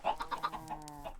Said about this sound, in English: Hi, chickens!